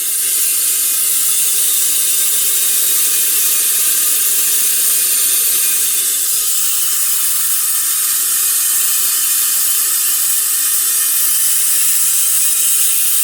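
Compressed air blasts steadily out of a small engine part from a Craftsman riding mower's Tecumseh engine after a solvent wash. The hiss is loud, close, unbroken and continuous throughout.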